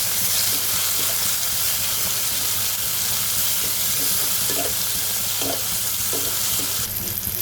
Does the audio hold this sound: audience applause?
no